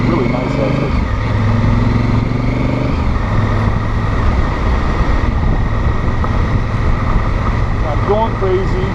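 A Honda Africa Twin adventure motorcycle rides over washboard gravel, its engine droning steadily and loudly up close amid wind and road rumble.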